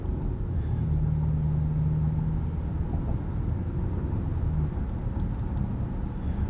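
Cabin of a 2018 Hyundai Santa Fe Sport 2.0T AWD driving, with a steady, fairly quiet low rumble of engine and road noise and a faint hum, continuous throughout with no talking.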